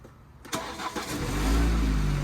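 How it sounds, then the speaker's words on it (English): A car with a push-button start turns over and catches, then settles into a steady low idle that grows louder after the start. A short whir comes first, followed by a clear rumbling ignition close by. "turn on your car, and I noticed that you have a push start"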